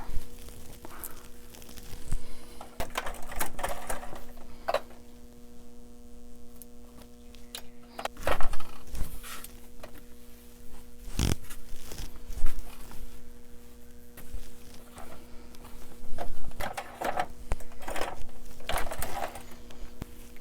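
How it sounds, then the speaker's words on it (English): A sewing machine stitches a Velcro strip onto a doll's crop top, with a steady mechanical hum broken by intermittent clicks and short bursts of handling noise. "I'm going to sew with the sewing machine the Velcro on."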